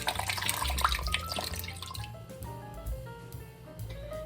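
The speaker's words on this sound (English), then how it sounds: "I'm just going to pour the sauce right over the ribs." Sauce is poured over about three pounds of beef short ribs in a Dutch oven, a soft liquid splashing and gurgling that is fuller at first, then thins into quieter drips and trickles, with no talking.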